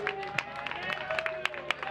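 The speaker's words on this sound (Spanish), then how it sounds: "Un aplauso para las chicas del MER que están ahí chupando su venta" Scattered clapping and cheering from a crowd at a metal festival, faint and distant, with broadband bursts over a steady hum.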